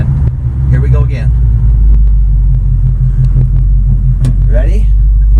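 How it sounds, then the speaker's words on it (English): A 1980 Dodge with a 318 Mopar V8 idles loudly and steadily close by, its deep rumble holding throughout while brief faint sounds rise above it. "I was wanting to kill the motor now."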